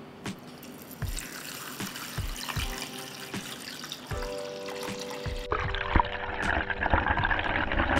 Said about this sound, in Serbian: Sada ću u šerpu sipati vodu do visine poklopca.